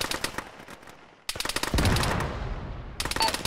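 Automatic gunfire from the military shooter Arma, rapid bursts of machine-gun shots that pause briefly, then resume louder and denser before a final burst.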